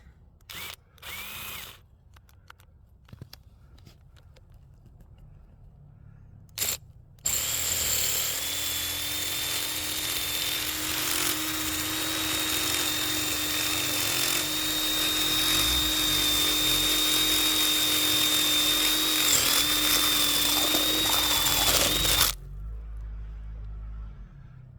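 A power drill bores through ice on a backyard pond, a loud sustained high whine running about fifteen seconds after a few short bursts, then cutting off abruptly.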